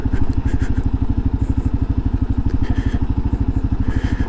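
A 2022 Kawasaki KLR650 rumbles in a fast, steady single-cylinder thump while braking on a desert dirt trail in southwest Utah, with faint clatter and crackle over the loud, close engine pulse.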